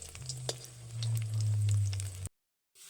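Chicken tikka pieces fry in a pan with a steady sizzle and low hum, a few clinks on top, before the sound cuts out abruptly near the end.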